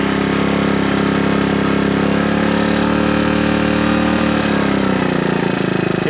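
A Suzuki DR200 single-cylinder motorcycle engine fitted with a Nibbi carburetor idles loudly and steadily up close, its thrumming note shifting as the idle is adjusted near the end.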